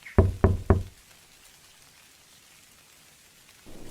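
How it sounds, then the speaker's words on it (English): Three quiet, evenly spaced knocks on a door sound close by at the start, followed by the steady hiss of storm rain falling outside. "A quiet knock."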